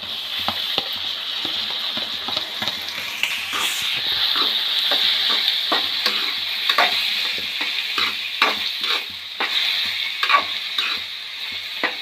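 Chopped tomatoes, five to six medium ones, sizzle in a hot frying pan for an Indian aloo matar palya while a spatula scrapes and stirs, giving steady frying hiss with repeated close clacks of the utensil.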